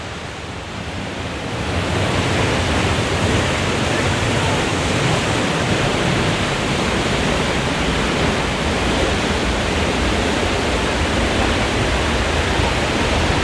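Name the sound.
waterfall, Salto de la Princesa in Chile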